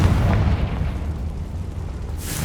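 Confringo explosion spell cast in Hogwarts Legacy, a loud deep booming blast with a rumbling low-end tail that fades over about two seconds.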